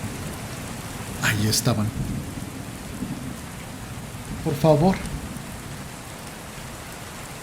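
Heavy rain hisses steadily through a thunderstorm, a constant wash of downpour filling the background while a voice speaks briefly twice.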